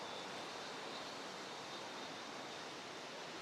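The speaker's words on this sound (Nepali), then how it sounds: "खोला यहाँ तल छ, हेर्नु सक्नुहुन्छ" The Shera Khola river stream flows in a steady, even rush of water that stays faint and constant throughout, with no voices.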